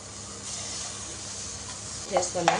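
Onions frying in oil for a drumstick-leaf chutney give a steady soft sizzling hiss, followed near the end by a couple of louder stirring scrapes in the pan.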